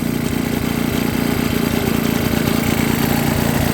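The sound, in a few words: 1966 Puch Allstate 16 horsepower engine running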